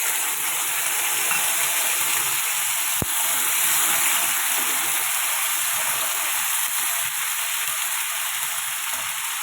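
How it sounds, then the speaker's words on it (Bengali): Tomato, ginger paste, green chilli paste and cumin paste sautéing in a pan, a loud, steady close sizzle and hiss running unbroken, with a single sharp tap partway through. "এটা বেশিক্ষণ কষাবো না, আমি হালকা হালকা কষাবো।"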